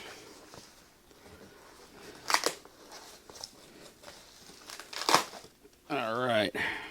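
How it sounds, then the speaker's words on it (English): Crinkly plastic crackles and rustles as bubble wrap is pulled off a heavy Mercury Magnetics transformer for a Marshall 100 watt 2203 amp, with two louder crunchy bursts and a final stretch of steady sustained rustling, under faint talk. "And then we got this wrapped with bubble wrap as well."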